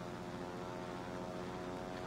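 Propeller aircraft engines drone steadily overhead in the World of Warships naval combat game, a continuous moderately loud hum with no voices.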